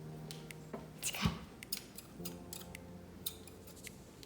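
Scissors snip and cut during a craft session making a tiara, with a few quiet, close, irregular crisp clicks and rustles and no talking.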